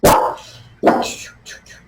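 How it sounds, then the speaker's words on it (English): A small dog sitting on someone's lap barks twice in sharp, loud, close yips about a second apart, followed by a softer whimpering yelp. "I don't think she's ever barked on my lap before."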